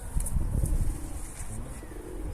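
Pigeons and wild doves in a backyard coop coo softly and repeatedly, with a few faint chirps and a brief flutter of wings, fairly close and steady against quiet outdoor ambience.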